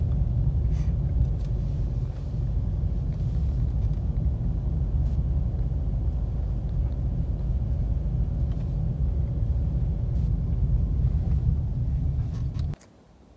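Mahindra XUV700 petrol SUV cruising at night, a steady low engine and road rumble from inside the cabin, continuous and fairly loud, cutting off abruptly near the end.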